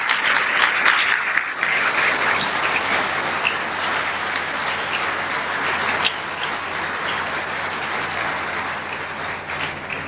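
A ceremony audience gives sustained applause for the contest winners, a loud, dense wash of clapping that runs the whole time with no break and eases off slightly toward the end.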